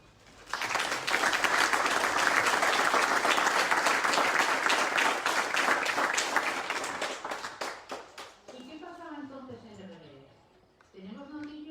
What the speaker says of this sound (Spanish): Yo creo que eso bien merece un gran aplauso.